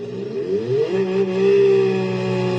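A car in the driving game BeamNG.drive accelerates, its loud engine rising steadily in pitch as it revs up, then holding a high, smooth whine.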